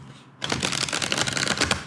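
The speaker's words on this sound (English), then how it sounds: "I'm going to shuffle one more time." Tarot or affirmation cards riffled in a quick shuffle, a dense burst of papery flicks lasting about a second and a half after a brief quiet start, close and fairly loud.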